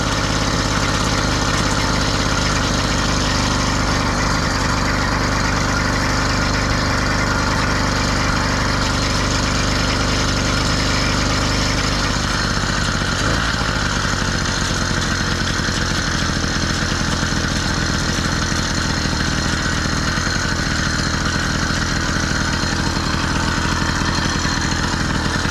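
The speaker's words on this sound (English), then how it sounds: "Now I keep it around an eighth of a throttle or so for its initial ride." Engine of a newly built motorized bicycle running at about an eighth throttle on its break-in test ride, a loud, continuous buzzing drone close to the mic that holds steady throughout with no talking.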